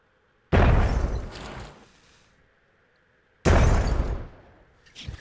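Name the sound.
grenade launched and exploding in video game Myth: The Fallen Lords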